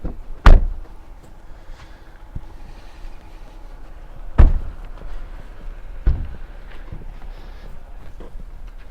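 A door in a suburban apartment building, with a sharp heavy thud of the latch and two more knocks and clunks spaced through a quiet room.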